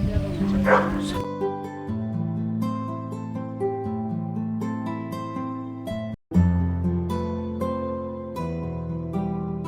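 Dogs at a dog training centre barking and yipping over a loud music bed, with a short whimpering burst at the start and a brief dropout midway.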